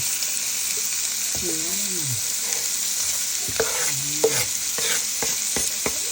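Leftover sliced onions stirred in a hot pan while cooking chicken pastil, with a continuous sizzle, clinking and scraping strokes, and a voice speaking briefly under the cooking noise.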